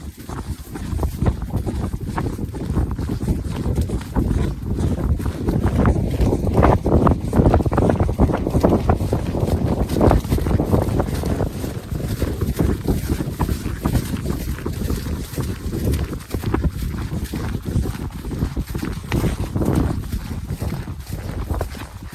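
A pony runs and trots around an outdoor paddock, hoofbeats thudding loosely under strong wind noise buffeting the microphone, steady and fairly loud throughout.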